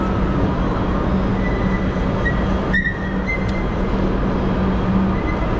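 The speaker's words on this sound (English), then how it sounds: "On the right there, there's an Extrapolis set coming in on a Belgrave service by the loop." An Extrapolis electric train runs into a Melbourne station platform on a Belgrave service by the loop, a steady low rumble with faint squeals and a brief sharp click, heard from the platform at moderate distance.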